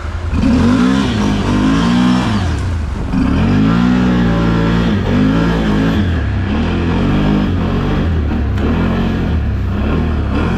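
A Can-Am Outlander 1000 XMR ATV ridden through stumpy woods in midwinter, engine loud and close, revving up and down in repeated surges with a rough, continuous drone throughout, no voice.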